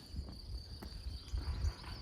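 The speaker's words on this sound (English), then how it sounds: "there's a lot of bees around here too." A steady drone of bees hangs faintly in the air near beehives outdoors in the Slovenian mountains, a thin buzzing tone held throughout over low rustling background.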